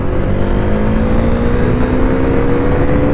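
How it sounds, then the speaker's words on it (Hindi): A Bajaj Dominar 400 motorcycle in good condition is ridden hard at high speed, its engine droning steadily under loud, constant wind rush, with a faint rising whine running throughout. "इस बाइक का कंडीशन बहुत अच्छा है, इसलिए जैसे मर्जी वैसे खींचो"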